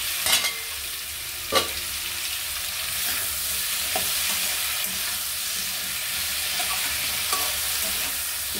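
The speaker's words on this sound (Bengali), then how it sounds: "ভালো করে নেড়ে করে আমি একটু ভালো করে কষিয়ে নেব" Vegetables stir-fried for hilsa fish head chorchori with red amaranth stalks and mixed fresh vegetables, a steady sizzle under occasional sharp scrapes and knocks of a spatula against the pan, with no talking.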